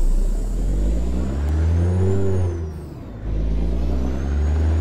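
An old Volvo truck engine in American Truck Simulator idles and revs with a deep, steady low rumble, rising then dipping, with a high whine over it and no talk.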